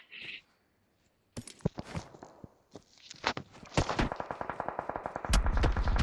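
Rapid bursts of gunfire from the battle royale video game PUBG, scattered shots at first, then a fast, steady volley of repeated shots building toward the end, loud and close with footsteps mixed in.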